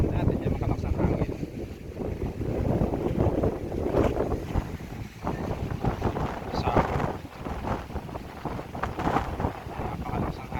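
Strong wind gusts roar at sea around a wooden outrigger boat during a storm, a steady broadband buffeting with heavy wind noise on the microphone, swelling and easing across the whole stretch.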